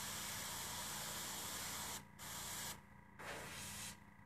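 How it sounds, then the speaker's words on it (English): An airbrush sprays paint around the edges of an artwork, a steady close hiss that drops out briefly a few times as the trigger is released and pressed again. "We call it an airbrush gun, but it's an airbrush."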